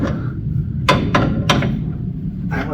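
A hammer strikes a steel axle yoke to knock it loose. Four sharp metallic smacks ring out over a low background rumble: three come close together in the first second and a half, and a lighter fourth blow follows a moment later.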